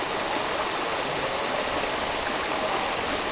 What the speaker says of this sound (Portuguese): dá uma olhada nessa cachoeira aqui